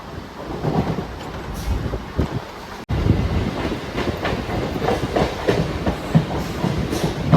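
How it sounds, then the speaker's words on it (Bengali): From onboard, a Howrah–Bardhaman main line local train rolls into Serampore station: a steady rumble with rhythmic clickety-clack of the wheels over rail joints and some wind buffeting, heard continuously throughout. "আমাদের ট্রেন ঢুকছে শ্রীরামপুর স্টেশন।"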